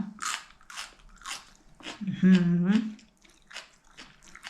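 Someone bites and chews a spicy Thai rice-noodle salad of soft, chewy khanom jin noodles with fiddlehead ferns, giving soft, close crunches and mouth sounds, with a voice vocalising in the middle.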